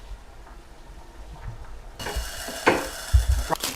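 Bread frying in butter on a griddle, a soft sizzle that grows louder partway through, with a few clinks and thumps of utensils against the pan.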